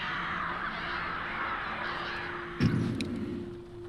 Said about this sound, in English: Yeah, those are dark crows.